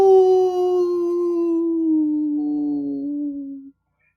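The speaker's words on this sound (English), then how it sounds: "He sat down and howled." A dog howls in one long, loud, close wail that slowly falls in pitch and wavers near the end before stopping abruptly, with nothing else around it.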